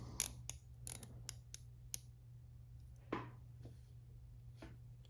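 A neo-vintage Omega Seamaster 2255.80 watch bezel is turned by hand, giving a close, crisp series of about a dozen small ratchet clicks at an uneven pace over a faint steady hum.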